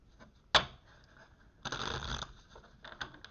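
Tarot cards being shuffled by hand, a sharp riffle burst followed by a longer rustling stretch of cards slapping together, close and fairly loud, with quieter shuffling taps trailing off at the end.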